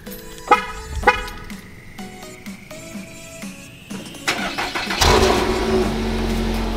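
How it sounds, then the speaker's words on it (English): A Dodge Hellcat gets a morning cold start. A few clicks and chime-like tones come first, then the engine catches with a sudden loud roar and holds a rough, rumbling idle. "we got a cold start for you"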